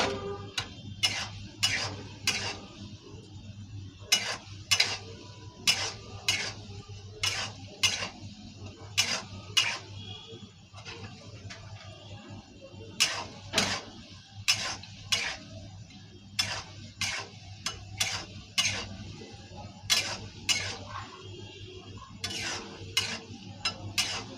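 Lentil fritters frying in a pan of oil, with a steady sizzle beneath a long run of sharp, regular scraping and clinking strikes from a utensil against the pan, close and fairly loud.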